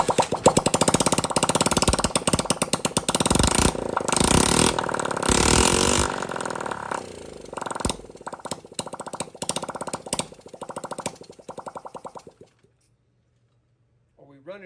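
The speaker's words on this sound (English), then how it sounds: "It doesn't want to seem to run off a choke." Honda Z50 minibike engine sputtering on choke with a carburetor that isn't clean, a loud, rough, uneven running that keeps faltering and then cuts out near the end, leaving near silence, with someone speaking over it.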